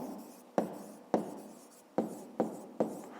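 Pen or chalk writing during a fifth-grade maths lesson, five separate quick strokes, each starting with a sharp tap and fading into a short scratch, spaced about half a second apart, close and quiet with no talk.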